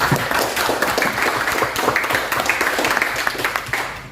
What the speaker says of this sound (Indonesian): Beri tepuk tangan untuk C ya.